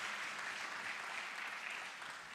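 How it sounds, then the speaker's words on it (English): Steady applause from an audience at an award ceremony, a dense, even wash of clapping for the winners that holds throughout, with no voices over it. "Let us give a big round of applause to all our winners."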